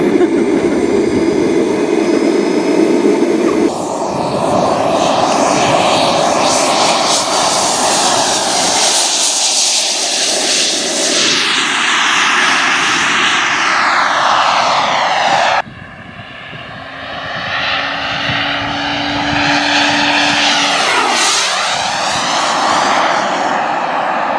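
Model jet aircraft roar past at a model airfield, a loud, sustained jet whine that swells and fades as they fly by, with a sharp cut partway through and another pass sweeping overhead.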